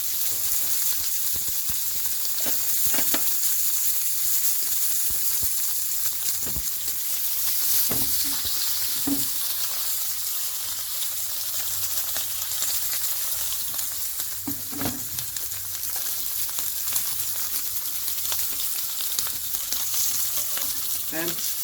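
A rib eye steak sizzles steadily in a pan with butter and garlic, a loud continuous hiss with occasional crackles and spatter pops throughout.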